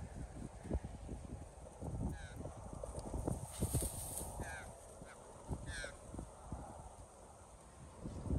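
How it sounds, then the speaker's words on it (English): Horses walk on a farm, their hooves giving soft, irregular clops under faint wind, with a few distant goose-like honks mixed in, all at low volume. "Horses aren't locked up yet."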